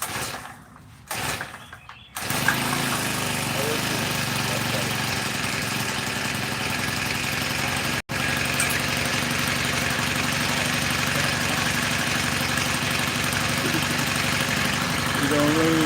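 A small engine, started with the choke on, idles steadily after a few seconds of fumbling noise, a continuous loud rumbling drone near the listener with one momentary dropout midway.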